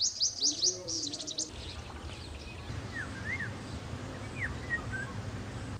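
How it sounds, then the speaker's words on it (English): Garden birds around a guest house lawn give scattered chirps and short whistled calls at a moderate distance over a low outdoor rumble, with a burst of high twittering at the start. "a multitude of garden birds fluttering around"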